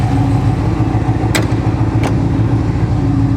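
A C7 Corvette fitted with an aftermarket exhaust idles with a deep, steady rumble and no voices. Two sharp brief clicks or knocks stand out over the engine partway through.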